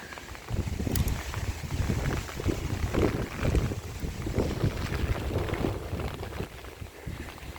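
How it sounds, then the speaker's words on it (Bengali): Loud, steady wind from Cyclone Remal in Bangladesh roars and buffets the microphone throughout, with gusty rumbling bursts and no voices. "এত বাতাস, বাতাসে উড়াই নিয়ে যাইতেছে।"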